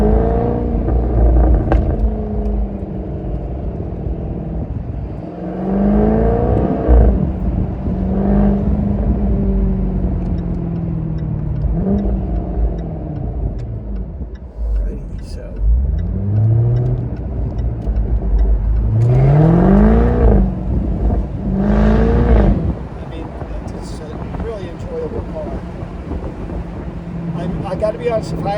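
A 2021 Jaguar F-Type R with its V8 engine is driven at low speed with the top down, a throaty engine rumble rising and falling through gear changes beneath someone talking throughout.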